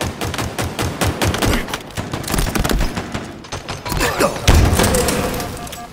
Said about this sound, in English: I threw an insurance grenade.